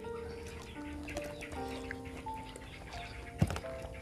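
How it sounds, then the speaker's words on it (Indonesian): Birds chirp and twitter in short, scattered calls outdoors, with clucking fowl-like sounds mixed in and a brief louder knock near the end. "Suara burung berkicau."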